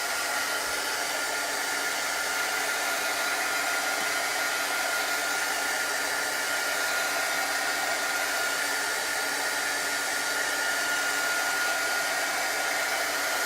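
Heat tool drying a chalk transfer on a canvas taken off its frame: a steady, loud blowing whir with a constant pitch that runs without a break for about thirteen seconds, no voices.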